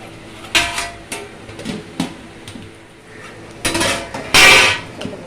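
A ladle scraping and knocking against a pot while biryani rice is stirred, with irregular metallic clanks and scrapes, a few louder clatters toward the end.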